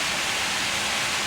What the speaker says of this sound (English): visitors could walk across the pool on tiles made of spraying water